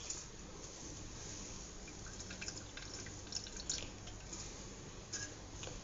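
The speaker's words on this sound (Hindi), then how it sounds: "ये देखिए खूब अच्छी तरह पानी निकल रहा है इसका" Water drips and trickles from a squeezed cloth, a faint scatter of small splashes over a quiet background hiss.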